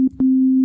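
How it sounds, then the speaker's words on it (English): A plain sine wave tone from the Spire synthesizer sounds loud and steady, played as short separate notes in a quick on-off pattern. "you can hear at the moment we've just got a sine wave"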